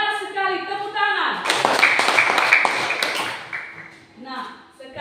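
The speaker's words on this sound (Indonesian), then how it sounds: "Tepuk tangan." Students in an elementary classroom break into a short burst of rhythmic clapping that swells in the middle and fades away, framed by a teacher's voice talking before and after.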